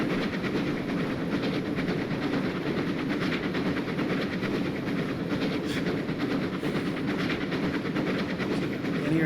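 Freight train rolling steadily on rails in Train Simulator Classic, Torbay line, with a continuous loud rumble and rhythmic wheel clatter throughout, no voices.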